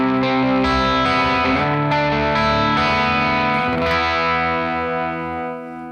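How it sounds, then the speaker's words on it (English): Electric guitar power chords with open strings ringing alongside, distorted and thick, strummed in a few sustained rhythmic hits that swell and then fade at the end, with no talking. "if you add some open strings that are just sitting there anyway, sometimes it can really fill up the sound and add new colors to your chords"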